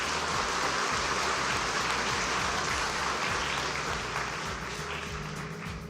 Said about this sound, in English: Let us give a round of applause to the two schools, Copen Secondary and Highlands Lutheran International School